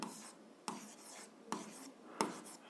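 A pen writing by hand on paper while working a seventh-grade algebra problem, quiet close scratching strokes punctuated by four distinct taps spaced about a second apart, no voices.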